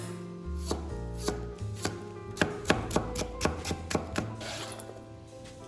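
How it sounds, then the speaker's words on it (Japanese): A knife chops carrots and cucumber into thin strips on a cutting board, a series of sharp, close, fairly regular taps that speed up in the middle, with a low background hum. "まず人参ときゅうりを切っていきます"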